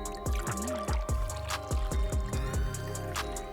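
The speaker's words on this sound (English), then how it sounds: "Next, I add 2 ounces of Blanco tequila" Two ounces of Blanco tequila are poured into a cocktail shaker, with a close trickle and splash of liquid among a few light knocks and clinks.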